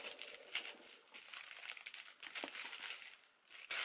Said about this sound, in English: the last thing in here is in a plastic bag